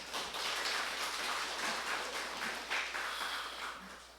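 A church congregation at a special dawn prayer service claps for the accompanist, making a steady, dense patter of applause that holds for several seconds and then eases off slightly, heard from within the room.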